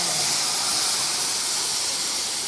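Mustard seeds, asafoetida, curry leaves and garlic sizzling in hot oil as the tempering for a fenugreek leaf curry, a loud, steady, hissing roar up close throughout.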